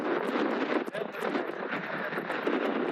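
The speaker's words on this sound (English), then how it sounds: "Very windy up here." Strong wind buffets and roars across the microphone continuously, loud and rumbling, with a brief dip partway through, on a hilltop in the Chino Hills during an electric mountain bike ride in drought.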